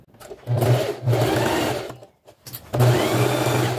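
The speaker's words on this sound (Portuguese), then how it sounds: "Aqui agora eu vou passar uma costura, ó, de fora a fora" A sewing machine runs a seam straight across fabric and batting in two bursts of steady motor whirring, with a short pause between them, loud and close.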